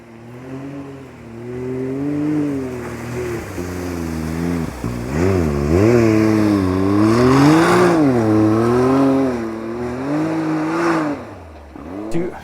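An off-road car on the snowy Rubicon Trail revs loudly and repeatedly as it pushes through snow, the engine pitch swooping up and down in close, surging bursts, with faint voices underneath.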